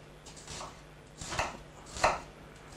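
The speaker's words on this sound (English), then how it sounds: "let's cut the onion in small pieces" A knife chops an onion into small pieces on a board for a mushroom, cheese and ham crêpe filling, giving a few distinct, close cuts against a quiet background.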